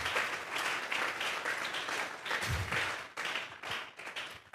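A church congregation breaks into sustained, dense applause offered to God, loud and continuous throughout, with one brief low thump partway through.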